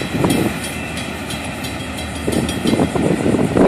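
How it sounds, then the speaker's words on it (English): A Florida East Coast Railway freight train, number 336, rolls steadily past, loud and close, with rumbling wheels, clattering railcars and some wind buffeting the microphone. "Nice train."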